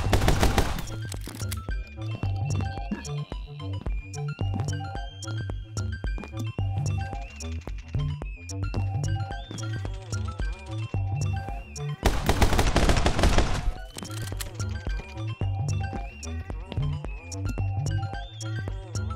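Rapid gunfire from the video game My Friend Pedro, dense bursts of automatic shots and single cracks repeating throughout, with two especially loud, crowded volleys near the start and midway.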